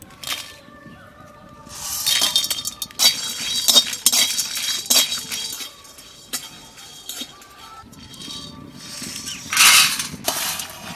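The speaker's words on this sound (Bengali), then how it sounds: "শুকনো খোলায় ভেজে নেব।" Whole spices such as mace, nutmeg, black and green cardamom, cinnamon, cloves, dried chillies and peppercorns being dry-roasted in a pan, with close clinking and scraping as they are tossed about, in irregular bursts.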